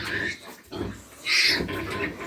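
A sow on a pig farm grunts and squeals up close in several bursts, with a louder, higher squeal in the middle and low snorting between calls.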